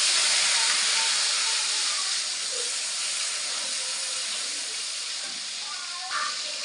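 Tomato, a bay leaf and a pinch of sugar sizzle in hot oil for a vegetarian cabbage dish, giving a loud, continuous close-up hiss that fades slightly over several seconds.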